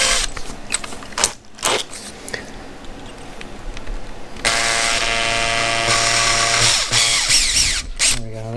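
A power drill bores a pilot hole through a rubber-padded roof rack mount while installing a Prinsu CabRack on a 3rd gen Toyota Tacoma; a steady, loud whirring grind starts partway through after brief handling noises.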